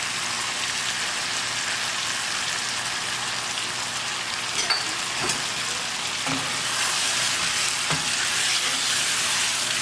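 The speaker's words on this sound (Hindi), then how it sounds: "इसमें टमाटर डाल के इसको भूनेंगे" Chopped tomatoes fry in a pot of chicken masala biryani, a dense, steady sizzle and crackle like rain, with a few occasional stirring knocks.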